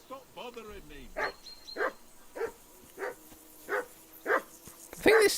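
A dog in the medieval role-playing game Kingdom Come Deliverance 2 barks about seven times in a steady, evenly spaced series, loud and close, after a short stretch of speech at the start.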